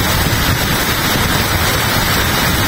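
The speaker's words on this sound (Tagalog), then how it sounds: "Sarap panoorin ng ulan." Steady, dense rain in Qatar hisses evenly throughout, a constant wash of noise with no voices.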